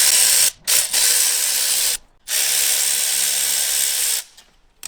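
The clutch slave cylinder bolts on a Fiat Grande Punto come out under a power tool, which whirs loudly in three long, close bursts separated by short pauses before it winds down.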